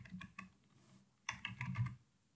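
Computer keyboard typing heard close up, two short bursts of key clicks separated by a brief pause, with no talking.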